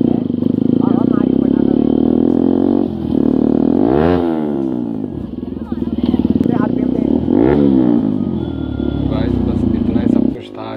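A Bajaj NS200 motorcycle fitted with an SC Project exhaust idles loud and close, with a deep steady burble and two sharp throttle blips that rise and fall, while someone talks over it.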